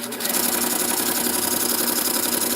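A knife edge sharpened on an Acceleron 600 grit belt, a continuous close mechanical whir and hiss from the running belt grinder, steady throughout with no speech.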